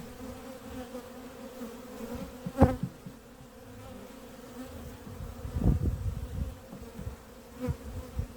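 Honey bees buzz steadily over a pulled hive frame with no honey left on it, a soft constant drone broken by a few louder close passes.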